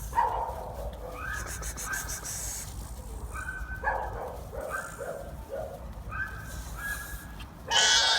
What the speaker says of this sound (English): Yeah, I got the little pups out here.